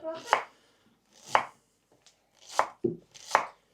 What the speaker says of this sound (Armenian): Օգնում միասին կտրատենք սոխը։